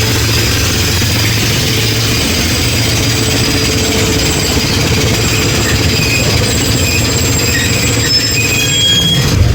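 The Baba Fareed Express, hauled by a GU20 diesel locomotive, runs along a Pakistani branch line, a loud continuous rumble of wheels and carriages heard from on board, with a steady engine drone and occasional faint squeals.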